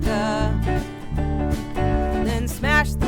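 Unmixed multitrack recording of a Christmas rock song, with dense, loud, sustained band instrumentation and strong low end running steadily from start to finish, raw and unbalanced.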